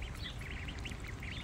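Farm ducks soaking in water give faint, rapid quacking and chattering calls against a low, steady rumble of background noise, with no voices.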